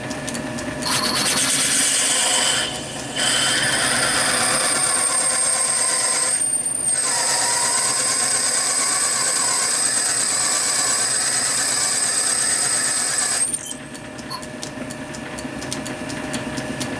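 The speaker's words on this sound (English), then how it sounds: "Spot drill him and drill him 6mm." A machine drill spot-drills and then bores a 6mm hole in metal, giving a steady, close whine and grind with a thin high tone, broken by brief pauses, with no talk.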